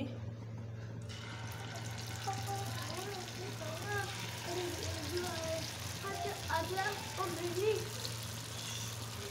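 Taler bora, a palm-fruit fritter, frying in a pan with a steady sizzle and bubbling, a constant low hum beneath and occasional stirring, with voices talking over it.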